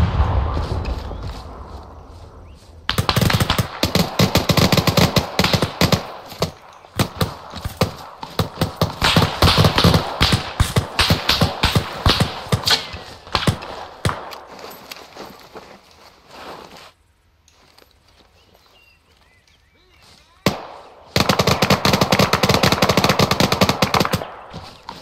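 Arma 3 combat gunfire, with loud bursts of automatic fire and rapid shots that keep stopping and starting, dense and close, with a quiet lull in the middle before another heavy burst.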